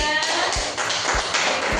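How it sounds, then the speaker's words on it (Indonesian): Classroom applause for group 3 after their presentation: students clap together in a dense, continuous patter that stays fairly loud for the short burst. "tepuk tangan buat kelompok 3"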